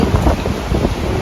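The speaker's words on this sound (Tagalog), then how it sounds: "sobrang hangin" Strong wind batters a microphone outdoors, making a continuous low rumbling roar with uneven gusts that swell and ease. No voices can be heard.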